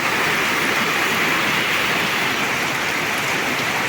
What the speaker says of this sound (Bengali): ইতিমধ্যে কিন্তু প্রায় আধা ঘন্টা হয়ে গেছে বৃষ্টি হচ্ছে